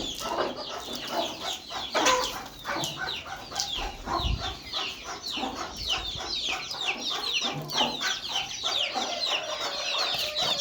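Chickens cluck and chatter continuously at close range, with a few louder calls standing out among the busy farmyard flock.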